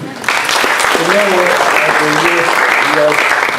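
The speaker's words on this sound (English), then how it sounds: "Can we give him a clap?" Audience applause at the launch of a youth entrepreneurship centre in Mombasa, a loud, sustained clapping that starts abruptly and carries on steadily, with a voice speaking over it.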